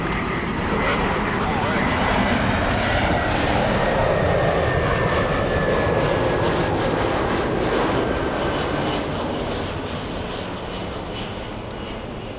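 A heavy Boeing 787 jet airliner lands on runway 24 right at LAX, its engine roar loud and steady throughout, fading slightly near the end, heard from outside at the airport.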